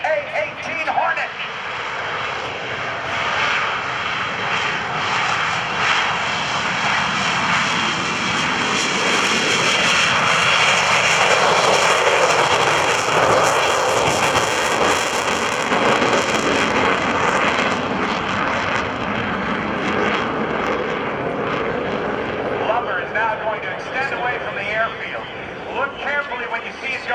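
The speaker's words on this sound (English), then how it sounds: "It's your United States Navy's FA-18 Hornet." A US Navy F/A-18C Hornet jet roars past at the NAS Oceana airshow, a loud, sustained engine blast with afterburner that swells and slowly fades, heard under an announcer talking over the PA.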